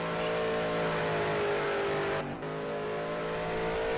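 Race cars roaring steadily at high revs on the Indianapolis Motor Speedway road course in a racing game, with a loud sustained engine drone that dips briefly before resuming at full volume.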